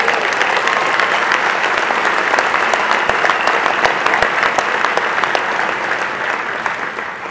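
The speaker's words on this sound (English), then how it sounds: "Let's hear it for Governor Smith." Dense, loud applause fills a large room at an annual formal dinner honoring Governor Smith, a steady wash of many clapping hands that holds evenly and eases slightly toward the end.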